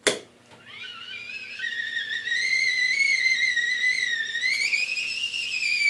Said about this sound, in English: there's only a small opening in the lid of this tea kettle for those gases to leak out from